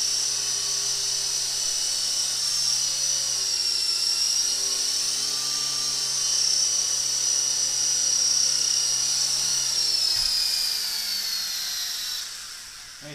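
A small Intercepter 052 RC helicopter whines with a high, steady motor and rotor buzz close by, holding pitch before winding down as it lands on a table.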